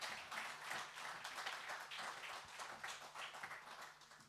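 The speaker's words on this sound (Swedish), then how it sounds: "You want to give Jesus a clap" An audience claps steadily, a continuous wash of applause heard from some distance, fairly faint and even throughout.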